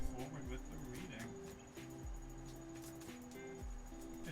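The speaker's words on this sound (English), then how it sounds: "It is, I'm sure as you can hear, officially cricket season here, now that we're in September." Crickets chirping on a September evening, a steady high-pitched trill running continuously in the background, faint and constant, with low rumbling sounds and some nearby noise underneath.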